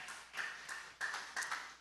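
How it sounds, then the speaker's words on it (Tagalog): Sparse, scattered clapping at a church preaching service, faint and thin, a few claps at a time with brief gaps, sounding like a small, unenthusiastic congregation. "Ang tamlay ng palakpak"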